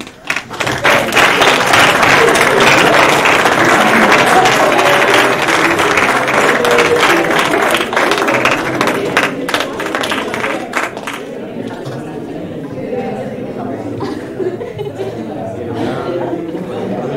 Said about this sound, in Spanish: me gustaría que le dierais un fuerte aplauso a Lucas Abad, por favor